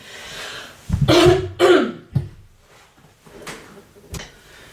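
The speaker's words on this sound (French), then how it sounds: "je vais me racler la gorge" Two forceful throat clears close to the mic, followed by a few softer clicks and a short cough-like rasp.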